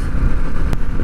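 A vintage Honda motorcycle's engine and exhaust keep up a steady, loud rumble while cruising, with a brief sharp burst near the end.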